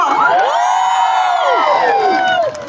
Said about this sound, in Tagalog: Isang hiyaw po para sa mga talented na tao.